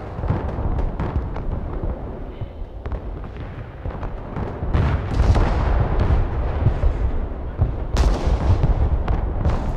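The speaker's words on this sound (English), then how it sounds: "Watch out, a missile." An incoming missile strikes in the video game Broken Arrow: loud, rumbling explosions and gunfire fill a dense combat din, with a sharp fresh blast near the end.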